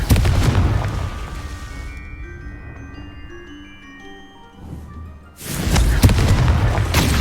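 A fiery Confringo blasting spell from Hogwarts Legacy goes off with loud booms, followed by a quieter spell shimmer with ringing tones, then a second heavy blast rumbles out.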